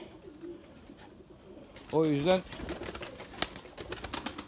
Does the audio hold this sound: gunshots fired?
no